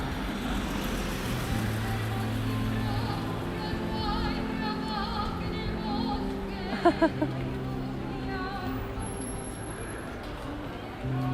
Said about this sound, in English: After this car passes.